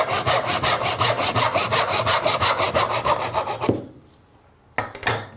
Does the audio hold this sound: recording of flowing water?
no